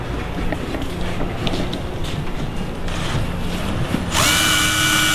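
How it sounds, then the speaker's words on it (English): Rustling and faint handling noise, then a power drill whirs up loudly near the end, drilling a pilot hole for a bolt while installing a Hobie H Bar, with a steady high whine. "I'm just going to drill another pilot hole."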